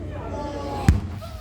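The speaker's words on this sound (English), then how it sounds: "I think those fireworks were meant to come out from the water." A single firework bursts with a sharp low boom during a family fireworks show over water, standing out briefly above a steady murmur of background voices and noise.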